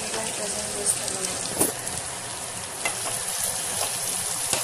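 Chopped onions frying in a pan for carrot rice and being stirred, dense, loud, continuous sizzle with occasional scraping spikes from the stirring, close up.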